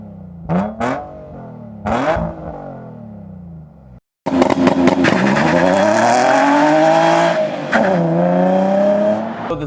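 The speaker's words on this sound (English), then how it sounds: "The 350Z has a really nice sound to it, but you have to pick the right exhaust." Nissan 350Z with an aftermarket exhaust, two short blips of the throttle followed by a brief gap, then a loud sustained rev that climbs and holds, close and without talk.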